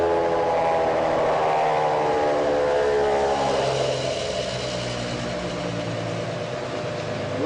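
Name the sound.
induction motor running in a generator system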